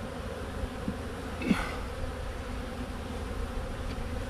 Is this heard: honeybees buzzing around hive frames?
yes